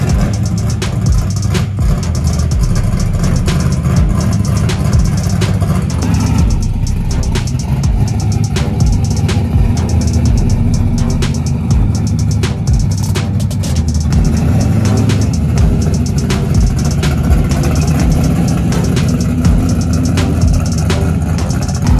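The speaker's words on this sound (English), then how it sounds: "So this is my 1987 Regal, custom deluxe." A 1987 Buick Regal Custom Deluxe street car rumbles close and loud at idle with a deep, lumpy engine note, steady throughout with slight fluctuations.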